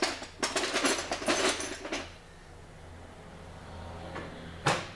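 Drawer in a garage workshop opened and rummaged through while searching for a wrench, giving a quick cluster of close wooden and metal knocks and rattles, then a quiet pause and a final sharp bump as it shuts.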